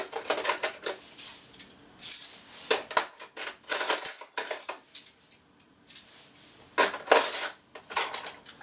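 Metal cutlery, teaspoons and utensils are handled and set down in bursts of bright clinking and jangling, with pauses between groups of close, sharp clatters and no voice.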